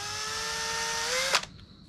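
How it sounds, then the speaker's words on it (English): Cheap cordless drill with a cleaning attachment whines at steady speed with rising tonal harmonics, then cuts off abruptly with a short clunk as it spins down, close and loud. "obviously a drill, this is just the cheap one from Bunnings"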